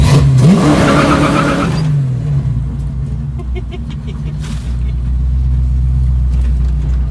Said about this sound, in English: there's burnouts and stuff on the bridge